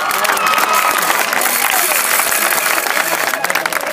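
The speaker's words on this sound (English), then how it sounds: "Give them a round of applause." Applause and cheering from a crowd honouring a graduating class, dense and steady throughout, loud and close with no gaps.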